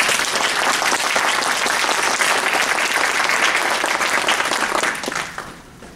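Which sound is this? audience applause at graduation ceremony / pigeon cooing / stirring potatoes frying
audience applause at graduation ceremony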